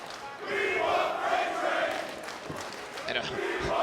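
A wrestling show crowd at WrestleCon Supershow 2014 chants a freight train chant, a rhythmic roar of many voices in an indoor venue, with a commentator speaking over it.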